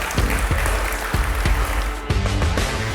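Audience applause at a port awards ceremony, steady close clapping with a few sharper individual claps standing out, fairly loud throughout.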